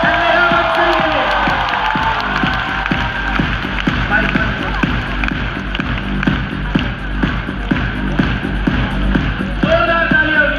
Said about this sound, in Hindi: जोरदार जोरदार तालियां होनी चाहिए सिद्धि गायकवाड़ के लिए